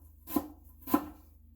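Two crisp knife chops on a cutting board while preparing vegetables for a spicy red lentil soup, spaced about half a second apart, close and clear with quiet between them.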